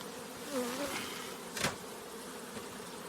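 Honeybees buzz at a hive, a close, moderately quiet drone of wings with one louder sharp knock partway through and no talking.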